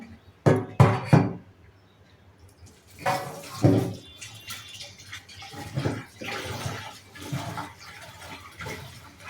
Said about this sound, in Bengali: মাছটা ভালো করে ধুয়ে নেবো নুন দিয়ে।